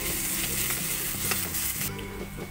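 Onion, ginger and garlic sizzling in hot oil in a pan while a utensil stirs them, a steady close crackle throughout with a few soft scrapes.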